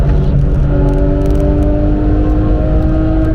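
Porsche 911 GT3 engine pulling hard uphill on the Nürburgring under heavy throttle, a loud, steady, droning roar with sustained harmonic tones that climb gently in pitch, heard from inside the car with no talking.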